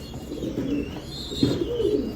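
Domestic Mumbai pigeons coo in low, throaty rolling calls, two or three nearby phrases rising and falling with a faint higher chirp above.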